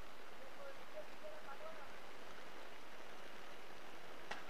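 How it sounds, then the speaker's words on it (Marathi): Heavy rain falls during a turf cricket match, a constant loud broadband hiss that fills the whole stretch, with faint voices barely showing underneath. "आणि जोरात पाऊस."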